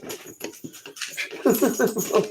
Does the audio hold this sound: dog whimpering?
yes